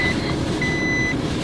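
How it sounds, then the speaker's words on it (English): A parked Volkswagen Golf gives a warning chime from inside the cabin: a short high beep, a pause, then a longer steady beep, heard close over a low engine rumble. "I'm like in park and it's still beeping at me"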